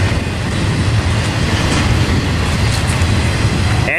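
A freight train of J.B. Hunt intermodal cars rolls steadily past on the Tehachapi line in California, a loud, close, continuous rumble and rattle of wheels.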